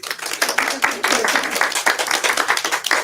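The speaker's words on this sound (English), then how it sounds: "Let's give her a round of applause." An audience claps to welcome a presenter onto the stage at a talk on tuning forks for healing, a dense burst of hand claps lasting the whole stretch, close and loud, with voices mixed in under it.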